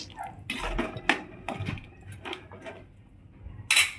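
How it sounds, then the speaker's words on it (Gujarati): A metal spoon stirring mixed vegetables into an oily gravy in a pot, giving several scraping strokes and dull clanks against the pan, then a brief sharp knock at the end; no speech. "ચમચાની મદદથી આવી રીતે મિક્સ કરીશું."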